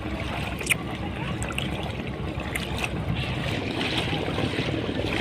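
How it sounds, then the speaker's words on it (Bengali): Boats passing on a swollen river in the rainy season, a passenger launch and a small dinghy, heard as a steady wash of water and a low engine drone, moderately distant, with faint splashes and no speech. "লঞ্চ আসতেছে একটা সামনে একটা ছোট ডিঙ্গি নৌকা"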